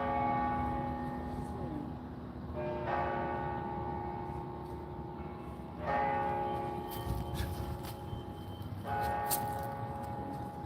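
Church bells in Savannah ring continuously with layered, sustained tones, struck again every few seconds over a steady background hum, at a moderate distance.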